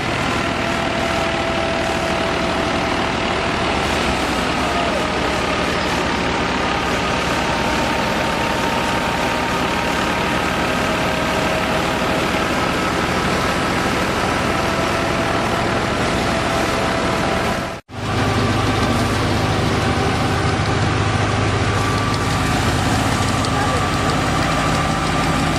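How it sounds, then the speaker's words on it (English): A massive wheat thresher, powered by an Al Ghazi tractor, runs steadily as harvested wheat is fed in, a loud, dense, continuous mechanical roar with a single brief dropout near the end. "Once the harvested wheat is fed into the machine, it begins a fast and continuous process of threshing"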